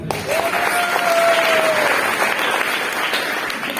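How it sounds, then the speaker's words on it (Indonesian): Steady applause from a crowd, a dense wash of clapping throughout, with a brief whistle-like tone near the start. "Boleh tepuk tangan"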